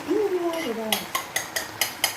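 A spoon stirs green chilli pickle in a pot, giving a run of five or six sharp metallic clinks at a steady rhythm after a brief sizzling whistle, close and clear.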